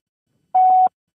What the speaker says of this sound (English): Just leave a message at the beep.